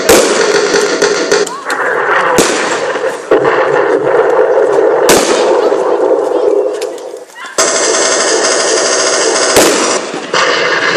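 Loud explosive blasts and sharp gunfire-like cracks ring out at intervals over continuous rumbling battle noise, with voices mixed in.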